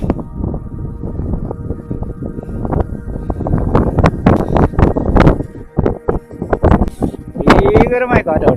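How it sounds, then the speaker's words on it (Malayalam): Strong wind on the Ranipuram hilltop buffets the microphone in loud, gusty bursts that rise and fall throughout, while a person talks over it. "ഭീകരമായ കാറ്റാണ് കേട്ടോ, ഭീകരമായ കാറ്റ്."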